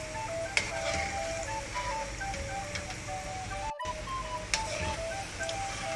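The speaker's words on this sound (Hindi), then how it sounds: "ये देखिए अच्छे से फ्राई हो रहे हैं, एक भी बॉल फट नहीं रहा है।" Gulab jamun balls fry gently in oil over a low flame, a soft continuous sizzle with faint bubbling and occasional light ticks and clinks, heard close and steady.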